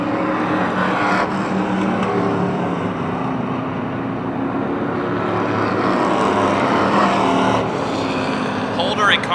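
Street stock race cars lap a small speedway in a heat race, a steady loud roar of engines filling the whole stretch, with a track announcer talking over it.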